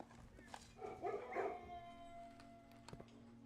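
A dog in a kennel in the video game Blue Prince gives a short run of faint yipping, whining barks, set against a steady low game hum with a couple of small clicks.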